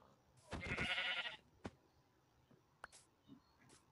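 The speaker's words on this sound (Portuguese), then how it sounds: "Uma ovelha." Sheep bleating in Minecraft 1.20, a loud drawn-out bleat early on followed by a few faint, brief in-game sounds and clicks.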